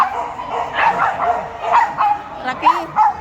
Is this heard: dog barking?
yes